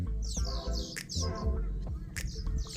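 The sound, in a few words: many birds chirping in the morning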